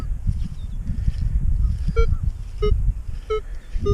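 Short tonal target beeps from a Minelab Equinox 800 metal detector in Park 2 mode, four evenly spaced pings over steady low ground rumble and faint background noise outdoors.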